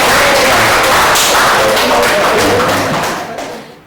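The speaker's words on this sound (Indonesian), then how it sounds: "silakan tepuk tangan untuk kelompok" A classroom audience applauds a student group after their presentation, steady dense clapping that holds throughout and fades out at the end.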